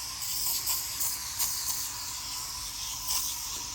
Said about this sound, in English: We then get some of this, which is a spray-on upholstery cleaner.